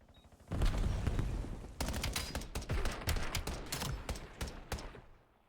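Rapid gunfire in an esports video game match, a loud burst of overlapping shots followed by a string of sharp, closely spaced cracks that taper off at the end, with no talk.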